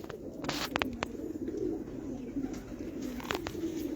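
A male pigeon coos softly amid other birds and background hum, with a few sharp clicks.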